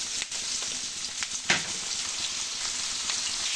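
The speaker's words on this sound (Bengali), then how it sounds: "কড়াই তেল গরম হয়ে, এবার কুচনো পেঁয়াজ দিয়ে দিচ্ছি তেলে।" Chopped onion, bay leaf and taro with potato frying in hot oil in a wok, giving a steady loud sizzle with a sharper crackling burst partway through.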